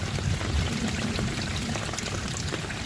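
Water pours steadily out of a backyard drainage pipe, a dense, continuous rushing splash at close range with no pauses, and no voices.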